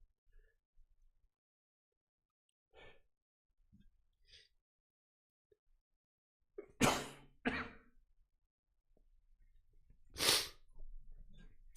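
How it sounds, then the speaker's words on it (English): A person who is sick gives two loud, sharp sneezes close by, then a third a few seconds later, with quiet sniffs and breaths before them. "I really gotta sneeze."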